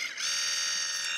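A Xiaomi water flosser runs in pulse mode, giving off a steady high-pitched mechanical buzz that starts abruptly and holds evenly, close and fairly quiet.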